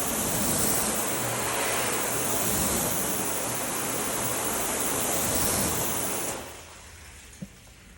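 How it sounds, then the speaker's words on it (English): Water is thrown onto car paint waxed with Turtle Wax Pure Shine and Meguiar's Ultimate Insane Shine, a loud, continuous rushing splash for about six seconds that then cuts off to quiet dripping. "So let's throw some water on it and see what that looks like though."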